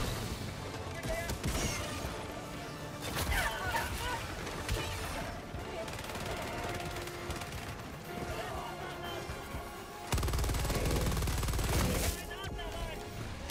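Continuous gunfire in the cooperative shooter Helldivers 2, dense overlapping bursts and cracks filling the whole stretch with a louder, heavier burst near the end, under players talking.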